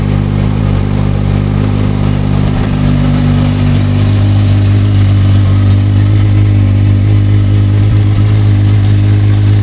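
A Kawasaki Versys 1000 motorcycle idles during warm-up at around 1,700 rpm, its steady, deep, even rumble loud and close with no break and no voices.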